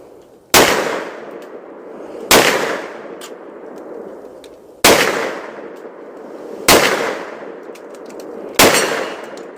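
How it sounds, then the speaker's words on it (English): An EAA Witness 10mm pistol fired at targets at a range: five loud, sharp reports spaced roughly two seconds apart, each followed by a ringing decay and faint metallic clinks. "I'm just going to finish out this magazine and just shoot some miscellaneous targets"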